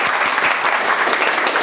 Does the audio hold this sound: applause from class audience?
yes